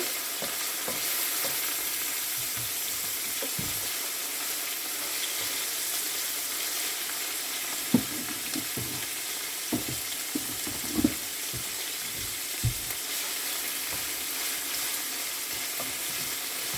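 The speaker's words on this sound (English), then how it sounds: "Let's saute this together." Breadfruit and saltfish sautéing in a pan, giving a steady sizzle broken by scraping and knocking from a spoon being stirred through, with some running-water sounds near the middle.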